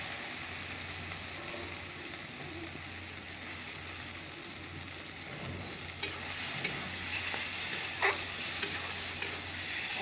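Masala spice paste stir-fries in oil with a steady low sizzle, and a spatula scrapes and clinks at a moderate distance, getting a little busier toward the end.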